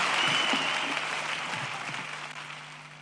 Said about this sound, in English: Please, a round of applause for Mr. Dominic Auger.